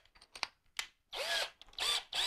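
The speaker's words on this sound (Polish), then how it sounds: "zacznę od zrobienia otworu właściwie, nie dziury, bo wierci się otwór" A power drill with a 12 mm bit bores a hole in a clay flower pot. Several short, sharp starts come first, then three longer bursts of close, high whining grinding with brief pauses between them.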